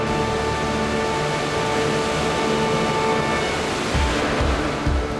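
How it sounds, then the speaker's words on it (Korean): Samdiecheon waterfall, a 215 m drop on Mount Lushan, roars as a loud, continuous broadband rush, with a faint steady tonal hum and a few low thumps near the end. "215m의 웅장함을 자랑하는 삼첩천 폭포다"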